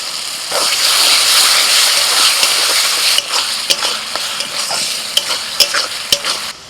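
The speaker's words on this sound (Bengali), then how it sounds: "টমেটো পেস্টটা দেওয়ার পর কিছুক্ষণ নাড়াচাড়া করে নিই।" Tomato paste with ginger, garlic and green chilli paste is stirred and fried in a pan for an egg curry, giving a loud continuous sizzle with sharp spoon scrapes and clinks against the pan, and no voices.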